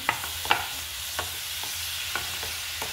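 Tomatoes tipped into a frying sorakaya (bottle gourd) curry with fenugreek leaves, giving a steady soft sizzle with several light scraping stir clicks, close and fairly quiet, no talking.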